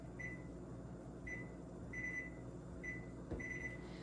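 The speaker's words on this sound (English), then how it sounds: "So I'm gonna set a timer." A kitchen timer beeps in short, faint electronic tones, five brief beeps spread unevenly over a few seconds against a steady low background hum in a home kitchen while okra soup with shrimp cooks.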